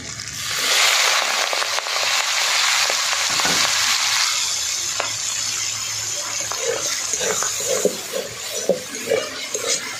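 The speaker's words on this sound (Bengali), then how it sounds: "ধুয়ে মাথাগুলো এবার এই তেলে ভেজে নেওয়া হবে" Washed prawn heads dropped into hot oil in a pan, flaring into a loud, dense sizzle that gradually settles into softer crackling and popping, with no talking.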